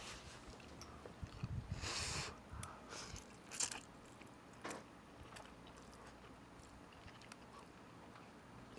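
Noodles being bitten and chewed up close: a few soft crunching bites and quiet mouth sounds over a faint background, with no talking.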